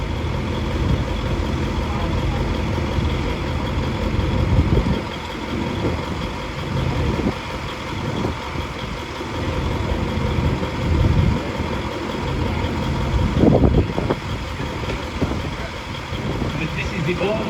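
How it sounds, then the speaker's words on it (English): An American V8 500 truck engine idles at a steam rally parade of commercial vehicles in Sheffield, a steady low rumble with fluctuating intensity, while people talk nearby. "why have we got an American truck in the UK?"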